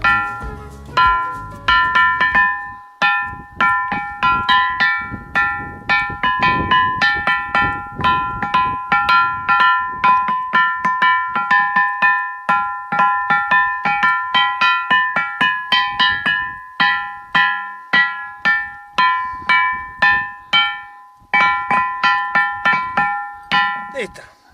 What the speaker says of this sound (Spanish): la famosa Piedra de la Campana, que realmente suena como una gran campana